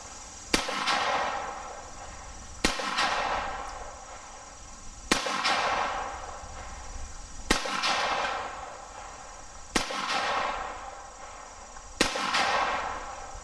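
300 Blackout rifle with an Odin Works Atlas 7 compensator fired free-recoil, six sharp loud shots spaced about two seconds apart, each followed by a brief echoing decay, no talking.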